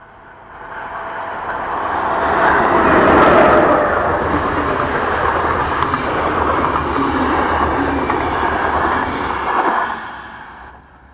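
A Hungarian 'Hörgő' diesel locomotive, number 309, rumbles past with a loud, steady, broad roar that builds, holds for several seconds and then fades. No voices are heard.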